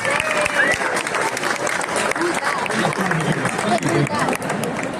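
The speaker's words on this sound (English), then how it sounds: "One round of applause for both of them." An audience at a badminton club event in Atlanta with PV Sindhu applauds in a dense, steady burst of clapping that lasts throughout, with scattered voices mixed in.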